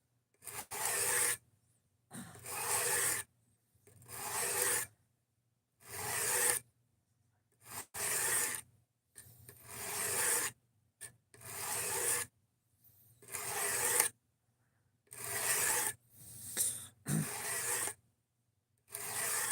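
A $13 D2 steel knife is drawn across a sharpening stone in about a dozen separate rasping strokes, each a short scraping burst with brief silences between, close and fairly quiet.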